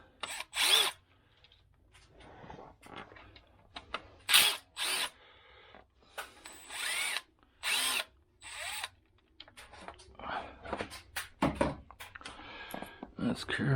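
A power socket tool with a T30 socket whirs in short repeated bursts while pulling timing chain tensioners from a Jeep Wrangler 3.6L Pentastar engine, close and loud, alternating with someone talking between runs.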